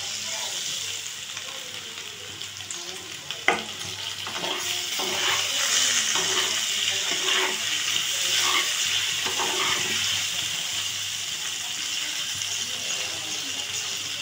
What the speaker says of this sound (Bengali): পনিরটা খুব বেশি ভাজবো না, হালকা করেই ভাজবো।